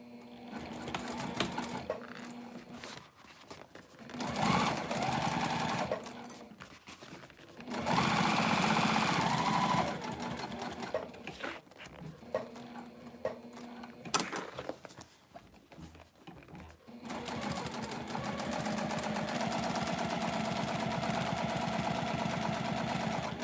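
A heavy-duty domestic sewing machine that handles thick leather runs in long, loud mechanical bursts, its rapid needle chatter stopping and restarting between stretches of stitching.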